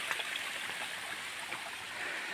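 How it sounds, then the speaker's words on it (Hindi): Water tumbles down over large boulders in a stream at the Baiju Baba site in Sonbhadra, giving a steady, close rushing hiss that holds unbroken and is heard alone. "यहाँ जो पानी है इतना यहाँ से हमेशा गिरता रहता है"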